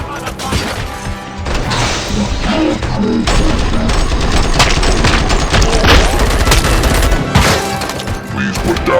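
Dense gunfire fills a combat scene in the RoboCop Rogue City video game, with loud, continuous bursts of shots, crashes and impacts layered over shouted voices.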